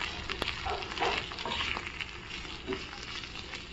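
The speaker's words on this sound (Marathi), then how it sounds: "छान असे आहे ना परतून घेऊया" Boiled cluster beans with red chili powder and turmeric sauté in a pan, giving a soft, continuous sizzle broken by a few quick stirring scrapes over a few seconds.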